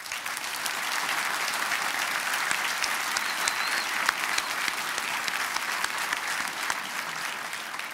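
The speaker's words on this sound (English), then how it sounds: "How about we give them a round of applause?" An audience at a military induction ceremony for new recruits in Glendale, Arizona claps warmly, a full sustained round of applause that holds steady from start to finish with no voices over it.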